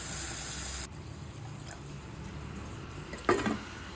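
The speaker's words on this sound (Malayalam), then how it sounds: "ഒരു രണ്ടര കപ്പോളം വെള്ളം ഒഴിച്ചു കൊടുക്കാം" Water pours into a pot of raw banana curry, a soft steady splash and trickle close by, with a brief louder splash near the end and no talking.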